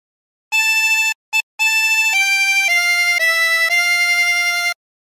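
A 16-hole tremolo harmonica plays a phrase of Hark the Herald Angels Sing as a run of about seven sustained, steady notes, with a short gap and one clipped note near the start, played alone and close.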